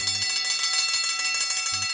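A bell struck by a catapult in Simon the Sorcerer rings continuously, a bright, loud, sustained metallic clanging that fills the whole stretch over a low hum.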